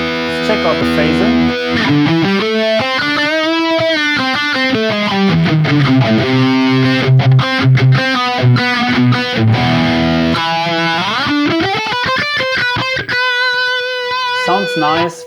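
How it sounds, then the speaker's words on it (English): A distorted electric guitar through the Neural DSP Gojira X plugin amp with a phaser effect plays a sustained lead phrase, its tone sweeping and swirling, then moves into quicker picked notes, loud and alone. "Let's check out the phaser."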